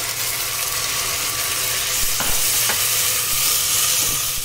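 A tomato goes into frying masala for mutton paya (goat leg) soup, producing a steady close sizzle with a few sharp stirring clicks from a spoon against the pot.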